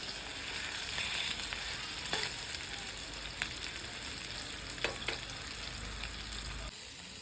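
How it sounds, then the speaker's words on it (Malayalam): Chicken curry masala frying in a pan, a steady close sizzle and crackle with a few sharp pops and stirring scrapes, no voices. "അപ്പോൾ ഇതൊന്ന് ഫ്രൈ ആയി വരട്ടെ കേട്ടോ"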